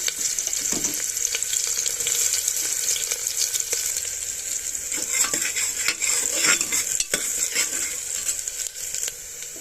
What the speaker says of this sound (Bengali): তেলটা গরম হয়ে গেছে, আমি পেঁয়াজ আর কাঁচা লঙ্কাটা প্রথমে দিয়ে দেবো।